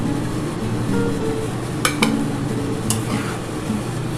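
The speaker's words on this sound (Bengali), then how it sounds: "আমি কিন্তু এবার চিংড়ি মাছটা এই যে দিয়ে দিচ্ছি এর মধ্যে।" Raw prawns dropped into a hot pan of cooking spices for chilli prawns, giving a steady close sizzle with a few sharp clinks and scrapes of a utensil against the pan.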